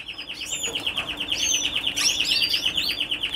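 An unpigmented Spanish Timbrado-type Raza Española canary chirps and trills continuously, with rapid repeated high notes and quick warbling runs, close and fairly steady.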